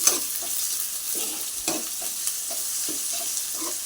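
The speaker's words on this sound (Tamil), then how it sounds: "இஞ்சி பூண்டு சேர்த்துட்டு நல்லா கிளறிடலாம்" Chopped tomato, ginger and garlic frying in a pan for tomato biryani, a constant sizzling hiss with repeated soft scrapes of a spoon stirring at an uneven rhythm, close by and without voices.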